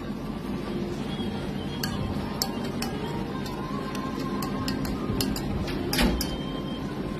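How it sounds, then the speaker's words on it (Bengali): A spoon stirring Rasna orange squash mixed into water in a glass, with a run of light clinks and ticks against the glass over steady room noise and no talk. "একটু চামচ দিয়ে গুলিয়ে নাও।"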